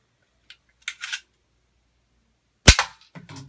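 A Nerf N-Strike Slingstrike toy blaster fires a dart with a sharp, loud snap, followed by a dart's soft impact and rattle, then near silence.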